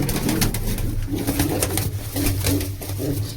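Several pigeons coo continuously and close by in a rooftop loft while they are set out in the sun, their low rolling calls overlapping with no speech.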